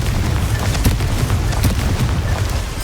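Bombarda and Confringo spells explode in Hogwarts Legacy, several heavy booms thudding in quick succession over a constant low rumble of game noise.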